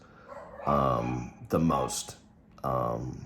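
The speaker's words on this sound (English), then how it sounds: "Apologize for the dogs barking." Dogs bark in short bursts mixed in with a person talking nearby.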